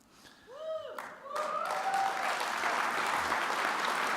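A gala audience at a retirement celebration breaks into loud, sustained applause with whoops and cheers, the dense clapping rising quickly and holding steady after a brief whistle-like cheer.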